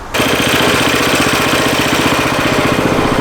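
A Coleman CT200U mini bike engine idling while warming up, a loud, close, steady rapid chugging putter that starts abruptly and runs evenly throughout.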